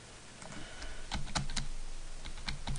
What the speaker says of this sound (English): I'm pressing spacebar multiple times, doesn't do anything